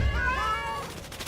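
A cat meows in the strategy video game Wargroove 2, one clear drawn-out call with bright harmonics, close and loud, heard alone over low game background rumble.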